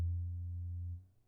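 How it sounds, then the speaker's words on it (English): Synth bass sample in the style of an 1980s keyboard bass: a single deep, steady sustained tone held for about a second before cutting off, heard alone. "It sounds like an old like 80s like keyboard bass."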